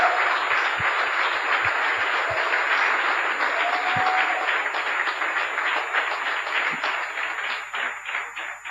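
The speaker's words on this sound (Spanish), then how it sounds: "Aplauso a la audiencia de televisión, a aquellos que nos ven y nos escuchan por Mañana Bendita. Un fuerte aplauso." A church congregation applauds during a Friday night service in Curaçao, dense steady clapping filling the room, with a few low thumps underneath.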